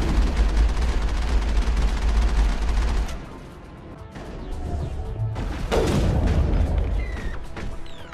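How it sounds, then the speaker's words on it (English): Heavy artillery and gunfire in the Mass Effect video game, a loud sustained barrage that briefly drops away, then returns with crashing blasts and explosions. "There's the artillery, Shepard. Under fire!"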